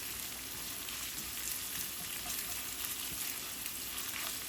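Garlic and onion fry in a quarter cup of oil, giving a quiet, even, unbroken sizzling hiss with no stirring accents or voices.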